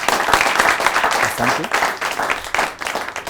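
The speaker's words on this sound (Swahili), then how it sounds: "Wapi makofi ya Dr. Stan?" An audience breaks into a short burst of clapping for a surgeon, dense and close, with a voice speaking briefly over it near the end.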